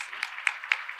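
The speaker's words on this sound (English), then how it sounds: "So just one more clapping for Tennessee." An audience at a 2024 healthcare quality meeting claps briefly, a thin scatter of a few sharp claps in a large room, faint and over within a second, with no voices.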